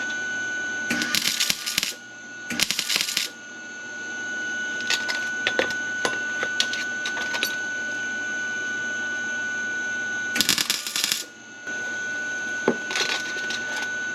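Tack welding on an exhaust pipe held with clamps, with three short bursts of loud crackling sizzle over a steady electrical whine and scattered faint ticks between them.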